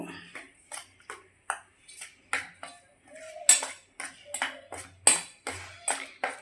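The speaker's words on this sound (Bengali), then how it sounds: "সব শুকনো উপকরণগুলোকে একসঙ্গে মিশিয়ে নিব" A spoon clinks and scrapes against a bowl in a quick irregular series of sharp taps while dry batter ingredients with turmeric and salt are mixed, close and clear against near silence.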